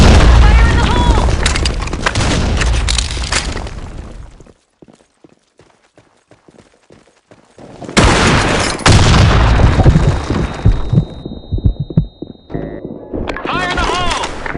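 Grenade blasts and gunfire in the online shooter BlackShot, heavy booms and rapid shots crowding the start, a quieter gap of scattered thuds, then another loud burst of explosions and firing, with game voice callouts over the action.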